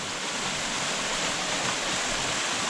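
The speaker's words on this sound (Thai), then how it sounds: "เป็นน้ำตกที่ไหลมาจากเขาบรรจบ แล้วก็มันจะตกลงมาตรงนี้" A waterfall fed from Khao Banchob pours steadily into a rock pool, a dense, unbroken roar of rushing water heard up close with no voices.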